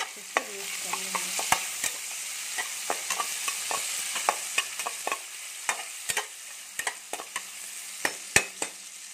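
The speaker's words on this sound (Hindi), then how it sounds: "प्याज हमारा जल्दी भून जाएगा।" Chopped onion fries in a pan for a fish-head and cabbage chenchada, a soft steady sizzle punctuated by frequent sharp clicks and taps of a stirring spoon, close and fairly quiet.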